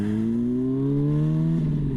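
Honda CBR600RR sport motorcycle (2011) with an aftermarket valved exhaust revving up, a loud steady engine note rising smoothly in pitch close by, with no one talking.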